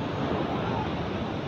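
Sea waves wash steadily at a fishing boat landing, a continuous loud roar of surf with wind buffeting the microphone.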